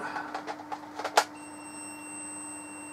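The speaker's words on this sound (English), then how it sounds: "That was a long beep." Sega Dreamcast VMU memory card check during a boot: a few soft clicks and a short chirp, then a long, steady electronic beep that holds evenly to the end.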